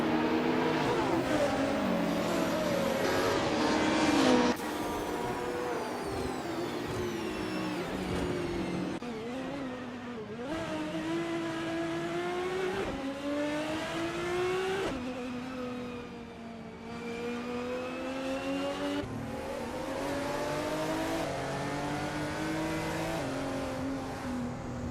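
Race cars roar around a track in a video game race, engines whining and revving at high pitch as they shift up and down, loud and continuous, several cars blending together with no voices.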